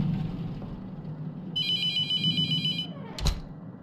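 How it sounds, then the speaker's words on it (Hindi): In the Mortuary Assistant horror video game, a telephone rings with a bright, bell-like trill that lasts about a second, over a low ambient hum. It is followed by a short sharp knock or thud, with no talking. "इधर भी फोन बज रहा है।"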